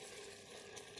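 Pepper paste being stirred into white beans in a pot, a steady close scraping and sizzling texture with no pauses.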